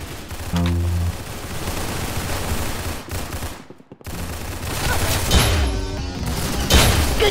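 Rapid gunfire bursts from the Roblox shooter game Arsenal, played on mobile, crackling loud and dense through most of the stretch with a brief lull midway before more shots resume.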